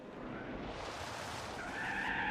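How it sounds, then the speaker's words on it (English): A car in Gran Turismo 4 sliding through a corner without brakes, with tires hissing and squealing in one continuous skid under a steady engine drone, growing slightly louder and higher toward the end. "I'm using every possible advantage I can gain from sliding the car"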